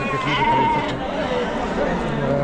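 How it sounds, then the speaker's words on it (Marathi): At the Chakan goat and sheep market, sheep give a couple of wavering bleats close by, set against steady crowd chatter and voices. "बऱ्यापैकी मेंढ्या आलेले आहेत"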